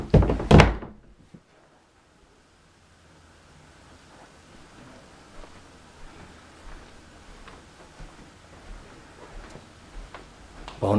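Closet double doors in a house bump shut with a loud close thunk and rattle, followed by a long quiet stretch of faint room noise, then another thud at the very end.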